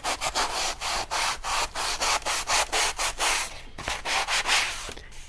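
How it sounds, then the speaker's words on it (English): Sanding block rubbed over a decoupaged journal page, steady back-and-forth scratchy strokes in an even rhythm of about twenty passes, close and clear. "if you take a sanding block and go over it,"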